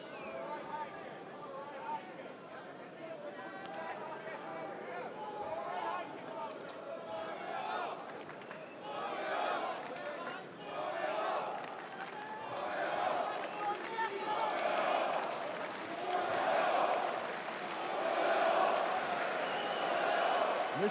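An MMA arena crowd chants fighter Yoel Romero's name in rhythmic, swelling waves. The roar grows louder toward the end, with a commentator's voice running over it.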